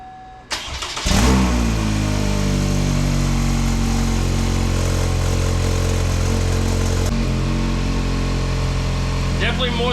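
A car engine cranks, catches and starts, then roars into a loud, rough rev and settles into a steady idle close by.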